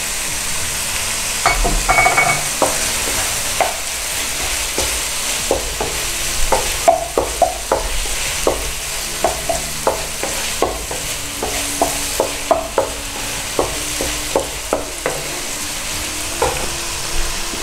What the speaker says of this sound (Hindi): हमारा चिकन थोड़ा सा फ्राई हो चुका है